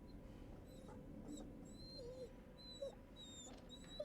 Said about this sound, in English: whimpering